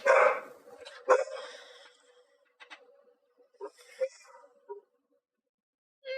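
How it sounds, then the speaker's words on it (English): A dog barks in a quick series of sharp, fairly close barks and yips, with quieter gaps and a few later isolated barks. "Hopefully you can't hear the barking too badly"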